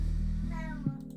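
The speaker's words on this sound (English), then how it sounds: "The cat that just said hello in the background." A cat meows once in the background indoors, a short rising-falling call sitting over a low steady hum, moderately faint and alone without talk.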